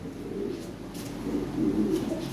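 Lahori pigeons coo in a steady, low, throaty rolling murmur close by, several birds overlapping without pause and swelling slightly louder toward the end.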